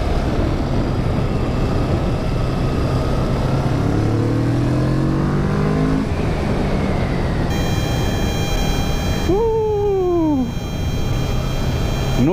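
A Kawasaki Vulcan S cruiser motorcycle on a test ride, its engine droning steadily under heavy wind rush, with a rising tone sweeping up and fading partway through.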